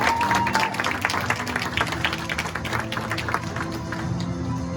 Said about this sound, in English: give Michael an applause